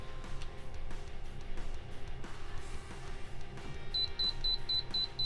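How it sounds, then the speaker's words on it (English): A short string of high, evenly spaced electronic beeps from a digital angle finder reaching 90 degrees near the end, over a low background hum and faint clatter. "So you'll hear this beep at 90 degrees."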